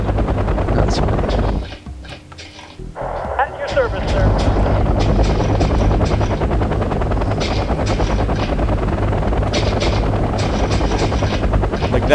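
A military helicopter in the Wargame European Escalation strategy game, its loud steady rotor chop filling the scene nearly throughout, briefly dropping away before returning, with gunfire-like cracks mixed in.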